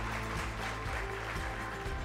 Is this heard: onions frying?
no